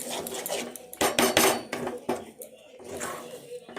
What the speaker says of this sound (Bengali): ভালোভাবে নাড়াচাড়া করলাম, নাড়াচাড়া করে ভাজতে হবে